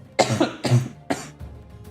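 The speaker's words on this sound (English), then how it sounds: "I felt the cough coming on." A close, harsh fit of coughing, three rough bursts in quick succession followed by a faint breath.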